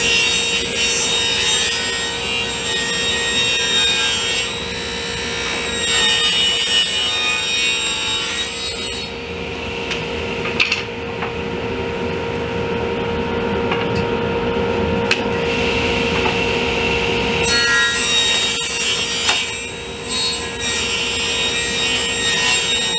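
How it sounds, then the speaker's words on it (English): Power saw cutting 45-degree miters across plywood legs, a steady loud whine throughout with a brief drop in pitch mid-cut, then full-power cutting again; no talking. "I'm going to start off by mitering them at a 45 degree angle."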